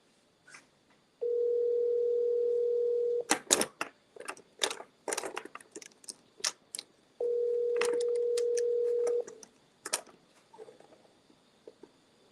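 A phone line plays two steady held tones after a call is ended, each lasting about two seconds, with sharp clicking and tapping in between, fairly close and clear.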